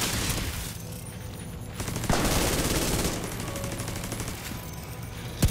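Rapid automatic gunfire in the video game The Division 2, dense bursts and fusillades with a heavy boom, loud and continuous throughout.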